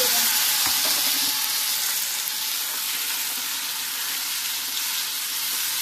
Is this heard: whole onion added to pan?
yes